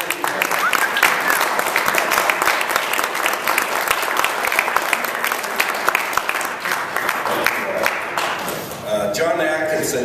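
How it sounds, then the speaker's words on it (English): A poetry event audience breaks into a loud, sustained round of applause for a departing poet laureate, crisp claps filling the room before a voice begins speaking at the close. "give him another round of applause for his significant"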